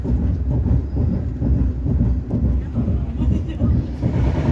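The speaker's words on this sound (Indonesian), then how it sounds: "kereta api Airlangga melanjutkan perjalanan dari Stasiun Bekasi" The Airlangga passenger train rumbles out of Bekasi station, a loud, continuous low roar with rhythmic wheel clatter pulsing through it, heard close from onboard with faint voices beneath.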